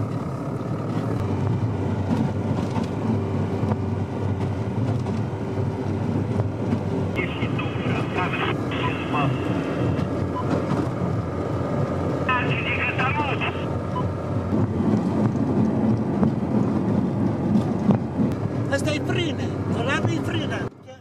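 A rail draisine van releases its brakes and rolls in reverse, a steady low rumble with wind across the microphone, short hissing bursts midway, and someone speaking over it.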